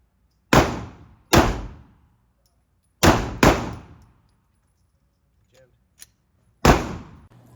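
Gunfire at an outdoor gun range: five loud, sharp shots with short ringing decays, spaced irregularly across the span, with a faint click between the later shots.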